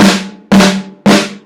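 Three separate sharp drum hits from drumsticks held with a squeezed back-finger grip, each a single dull stroke that rings briefly and dies away, with no rebounds following.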